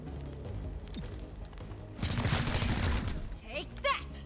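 Gunfire in the video game XCOM: Chimera Squad, a dense burst of rapid shots lasting about a second, loud and close, with a voice talking before and after.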